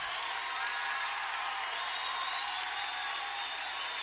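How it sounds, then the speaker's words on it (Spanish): Steady applause from a church congregation during a worship service, a dense even wash of clapping that holds at a constant level throughout with no break, heard at a moderate distance. "Levante ese aplauso al Señor."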